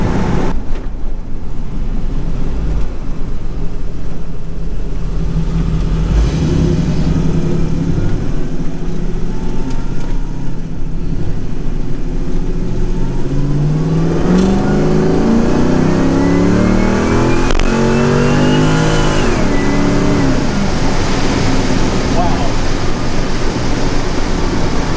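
1967 Camaro with an LS6 engine revs and accelerates, its loud engine note climbing in pitch through rising gear sweeps over a constant rumble, close and without talk.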